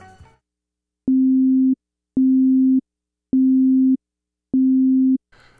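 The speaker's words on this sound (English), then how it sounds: "The simplest wave type is a sine wave, which contains only one frequency, a fundamental pitch." Four evenly spaced bursts of a pure, steady sine-wave tone from an analog synthesizer, each lasting about half a second with short silences between, loud and clean with no harmonics.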